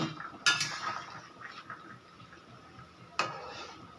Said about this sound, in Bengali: এবার আমি ঢাকনাটা খুলে দেখব পেঁপেটা সেদ্ধ হয়েছে কিনা।